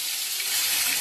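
Onion paste frying in hot oil over lowered heat, a loud dense steady sizzle close up, alone without talk.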